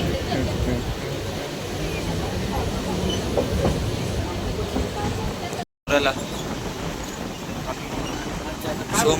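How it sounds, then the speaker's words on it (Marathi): A passenger train runs steadily on its rails with continuous rumbling and rattling clatter, loud and close throughout, broken by a short dropout, while people talk over it. "फायनली आमची ट्रेन आले"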